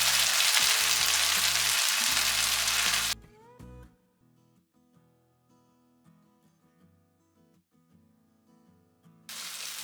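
Coconut pieces and mutton fry hard in a pan for a Kerala-style mutton pepper roast, loud steady sizzling for about three seconds, then a quiet stretch with faint clinks before the sizzle surges back at the end.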